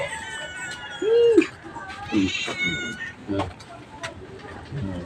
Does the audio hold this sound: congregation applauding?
no